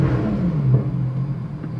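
A Lotus Exige engine, started with the clutch and brake pressed, settles into a low idle, a steady close rumble with a brief rise in pitch before it levels off.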